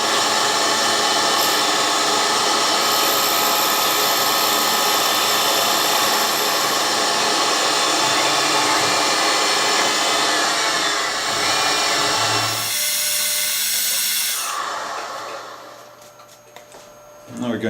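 Side milling the end surfaces of a small steel part for a miniature M1911 magazine spring, giving a steady, loud, close machining whir that runs almost throughout before tapering off near the end.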